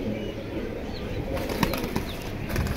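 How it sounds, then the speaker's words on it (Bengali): A restless pigeon, a female held in the hands at a pigeon sale, flaps its wings in brief bursts. The flutters are close and come in irregular, rustling spurts over a steady background hiss. "অনেক শখ ছটপটা কবুতর তো, তার ভাই ধরতে কষ্ট হইতেছে"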